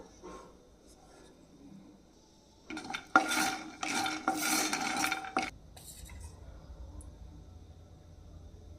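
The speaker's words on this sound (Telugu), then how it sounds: "ఇప్పుడు కాజు వేస్తున్నాను బాదం కూడా వేసేస్తున్నాను గసగసాలు వేస్తున్నాను" Cashews, almonds and poppy seeds are stirred in a dry pan for tomato masala, a dense burst of scraping and rattling for about two and a half seconds after a quiet start, then settling back to a low background.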